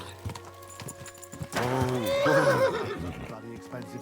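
A horse in Kingdom Come: Deliverance II gives a loud, close whinny after a few hoof clip-clops, the neigh rising and wavering for about two seconds before it fades.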